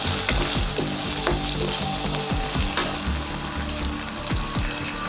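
Onion frying with turmeric in a pan, a dense continuous sizzle with occasional spoon scrapes, close and fairly loud with no voices.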